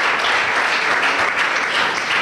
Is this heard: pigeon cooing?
no